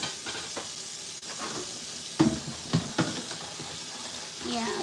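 Dishes being washed at a home kitchen sink, with steady running water hiss and a few clinks and clatters of dishes, under a person talking.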